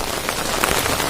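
Heavy rain pours down outdoors in the rainy season, a dense, even wash of patter with no voices.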